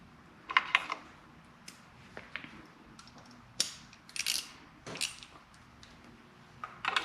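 A ratchet clicks in short, scattered bursts while snugging case saver bolts on a 2022 Kawasaki ZX6R Ninja, with crisp metallic ticks and small clanks over a quiet background.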